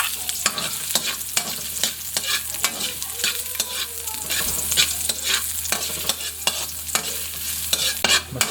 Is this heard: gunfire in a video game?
no